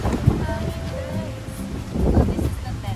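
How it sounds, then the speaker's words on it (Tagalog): Strong wind at a riverside day camp in Tanay, Rizal, a steady rough buffeting roar against the microphone with gusts, a faint tonal whine and a voice partly beneath it. "Kaya natin lalagay yan kasi masyado na malakas yung hangin."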